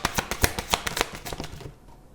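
Tarot cards riffled and shuffled by hand in a quick burst of crisp, close flapping clicks, slowing to a few softer slides and a pull before falling quiet.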